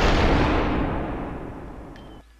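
A heavy gunshot boom in the video game Superhot, loud and close, ringing out and decaying over about two seconds before cutting to near silence.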